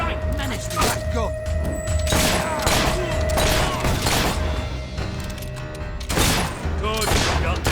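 Repeated gunfire in the video game Fable 3, sharp shots recurring at intervals across several seconds, loud and close, mixed with game voices and clutter.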